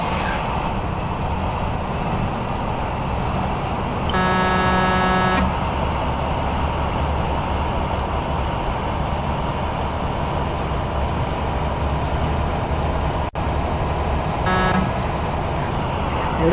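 A heavy truck rolls steadily in the Truckers of Europe 3 mobile game, its engine drone and road rumble continuous and fairly loud, with a sustained horn blast near the start and a shorter honk near the end.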